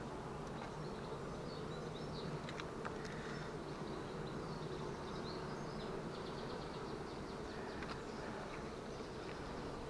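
Dense, steady buzzing of honey bees fills a packed, full beehive during the first honey harvest of 2024, a continuous close drone with no talking.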